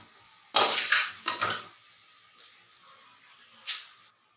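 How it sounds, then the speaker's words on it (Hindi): Chicken feet frying in a pot: two short bursts of crackling hiss and clatter of stirring near the start, then a quiet simmer with one more brief sizzle near the end. "तो ये देखिए, यहाँ पे हमारा पंजे भूने जा रहे हैं"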